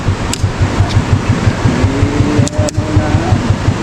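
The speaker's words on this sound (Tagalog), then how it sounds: "Walastik na bagong makina ni Tikong eh." Tikong's new engine runs at a steady idle, a loud, close, rhythmic low thrum pulsing evenly with faint mechanical whine above it and no voices.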